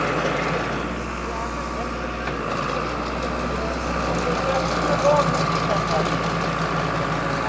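A 60 HP tractor pulling a super seeder runs in fourth creeper gear, its engine a steady, loud, low drone throughout, with voices talking over it.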